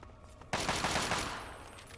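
Gunfire in the video game Fallout 3 erupts suddenly after a quiet moment, a loud burst of rapid shots that rings out and slowly decays.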